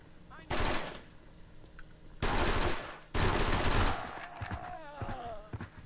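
Gunfire in the video game The Stalin Subway, several loud bursts of rapid automatic fire with short gaps between them, and a voice speaking over the quieter parts.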